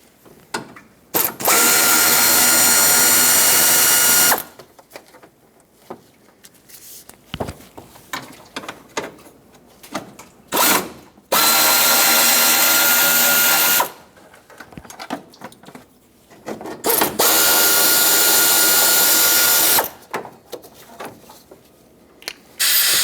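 Power tool spinning out the 10mm bolts of a fan shroud on a 1995-2004 Toyota Tacoma 2.4L: three loud, buzzing whirring bursts of several seconds each, separated by quieter clinks and handling noises, close up.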